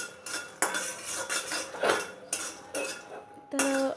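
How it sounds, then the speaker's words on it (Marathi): Peanuts dry-roast in a pan while a utensil stirs them, giving a string of close metallic scrapes and clinks in short, uneven strokes against a quiet background. "मी छानपैकी हे आपले शेंगदाणे भाजून घेत आहे"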